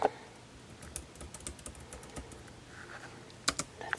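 Soft, sparse keystrokes on a Logitech K380 wireless keyboard, scattered light clicks at an irregular pace with a couple of slightly sharper taps near the end, heard close up in a quiet room.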